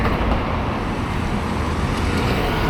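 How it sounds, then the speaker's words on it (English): Busy road traffic along a riverside road in a town square area, a continuous roar of passing cars and heavier vehicles with a low rumbling wash, fairly loud and steady with no talking. "A lot of traffic along this road, along the river."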